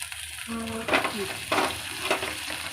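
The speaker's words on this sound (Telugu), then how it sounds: "పచ్చివాసన పోయే వరకు దీన్ని ఫ్రై అవనివ్వాలి" Ginger paste and masala frying in a pan for mutton gongura curry, a steady close sizzle with a few louder stirring scrapes.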